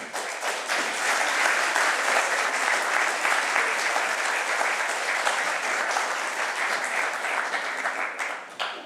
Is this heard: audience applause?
yes